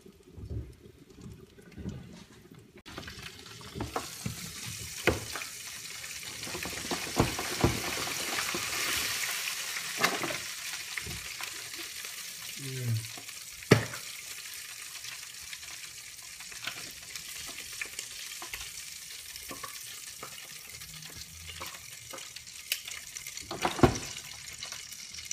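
Chicken frying in hot oil in a home kitchen, a continuous crackling sizzle broken by scattered clinks and knocks of utensils and a brief run of water, with no voices.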